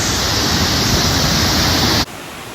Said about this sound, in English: And the water just keeps flowing.